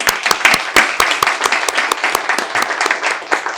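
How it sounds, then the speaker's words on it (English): An audience applauds a featured speaker at a university homecoming alumni award celebration and seminar, with loud, close, dense clapping and distinct sharp individual claps standing out throughout. "Round of applause."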